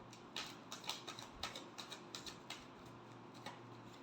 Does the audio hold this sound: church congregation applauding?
no